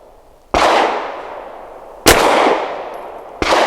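Three sharp, loud pistol shots from an Arsenal Strike One fired at a 7-yard circle target, each a hard crack followed by a long decaying ring, spaced unevenly with no talk in between.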